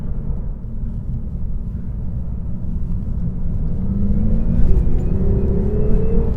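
Engine of a 2018 Lexus RC 300 F-Sport while driving on a winding road, a loud steady low rumble with road noise that swells slightly as the car pulls harder, heard from inside the cabin with no talking.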